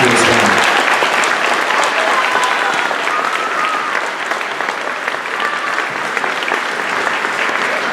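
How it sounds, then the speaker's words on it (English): A concert audience at a high school band and choir performance keeps up loud, dense applause for the choirs for the full eight seconds, a steady wash of many hands clapping with no voices standing out. "if you guys could give another round of applause to all the choirs"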